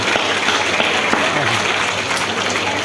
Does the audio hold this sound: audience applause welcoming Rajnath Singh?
yes